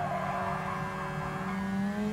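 A race car with a Mazda rotary engine in Gran Turismo Sport on PS4 drones steadily at high revs while tires squeal through a corner, loud and continuous with no talk.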